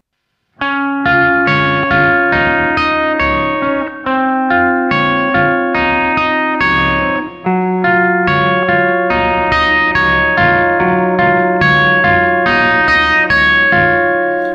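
Electric guitar runs through effects pedals, playing the three chords of the song in standard tuning: a steady, loud, driving strummed pattern with chorus and echo shimmer. It sounds close and continuous, with no voices.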